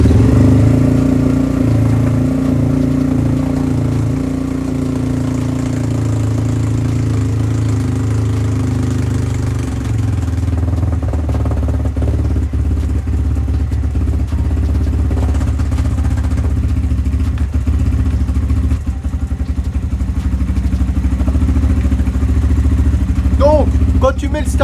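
An ERZ 300 LC motorcycle engine idles after a cold start with the choke on, a loud, close, steady low rumble that continues unbroken for over twenty seconds while someone talks over it.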